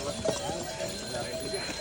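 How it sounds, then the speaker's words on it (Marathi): Horses' hooves clip-clop on the mountain trek to Kedarnath, a steady irregular patter of hoofbeats at moderate distance amid outdoor crowd noise and voices. "ते सर्व घोडे इथं लागतात भरपूर घोडे आहेत"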